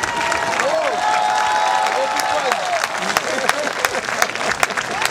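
An audience applauds at a concert on the Sun Tour 2013 stop in Carros, loud sustained clapping that thins into scattered claps near the end, with a voice speaking over part of it.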